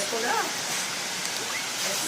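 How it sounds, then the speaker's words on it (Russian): The Seven Wells waterfall on Langkawi gives a steady broadband rush of falling water, constant and fairly loud, with faint voices mixed in. "Мы пришли на водопады."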